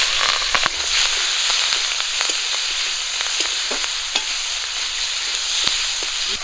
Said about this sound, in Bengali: মাছ ভাজা তেলে আমি পেঁয়াজ কুচি আর কাঁচা লঙ্কা চিরা দিয়ে দেবো